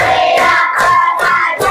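A class of children clap their hands together in a counting ice-breaker game, several crisp group claps in a steady rhythm, loud and close, with voices chanting alongside.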